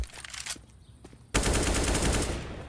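UMP submachine gun fire in a Counter-Strike esports match, a scattered spray of shots that turns into a sustained, loud burst of automatic gunfire.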